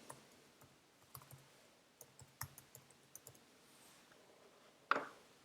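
Scattered, quiet computer mouse clicks, single and in quick pairs, with a sharper click near the end, made while setting up a task in Windows Task Scheduler; no talking.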